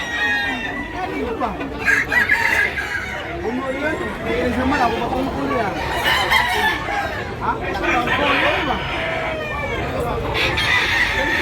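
Roosters crow repeatedly amid steady clucking and chatter from many chickens at a fowl sale, with people talking nearby throughout.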